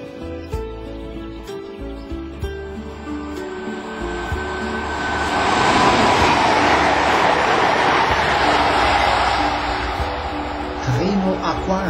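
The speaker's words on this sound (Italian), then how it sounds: "Treno Aquario, il 9892, Lecce Bari Centrale, effettuato da lettiere 341, un flirt, costruzione Stadler." Stadler Flirt electric passenger train on the Lecce to Bari line passing near Specchiolla, a loud rumbling pass that builds to a steady roar with rail noise and fades slightly at the end.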